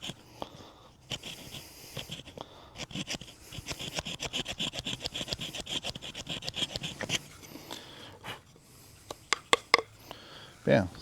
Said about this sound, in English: We'll open our saw blade back up, and we will come in here, and we're going to do a kind of an angled notch.